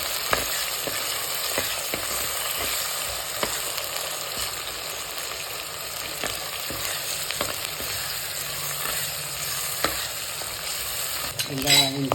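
Sliced onions, green chillies and curry leaves sauté in a pan for a clay-pot fish curry, a dense, steady sizzle with regular stirring scrapes, close and continuous throughout with no talking.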